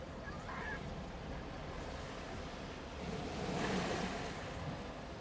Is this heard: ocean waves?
yes